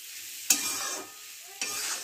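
Lentils stir-fried in a pan for a khasta kachori filling, with two sharp scraping stirs, each followed by a fading sizzle, close and fairly quiet with no voices.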